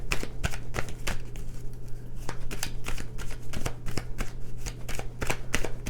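Tarot cards are shuffled in rapid bursts of crisp riffling and slapping, close and fairly loud, with a steady low hum underneath and no talking.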